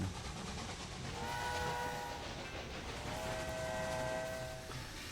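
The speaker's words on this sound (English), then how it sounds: "It's already a pretty busy spot and have a train waiting here." Trains at a busy Chicago station in the Railway Empire game, with horn or whistle tones sounding over a steady rolling rumble of railcars, fairly loud and continuous with no talk.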